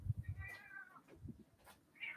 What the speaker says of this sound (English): Oh my goodness, a cat.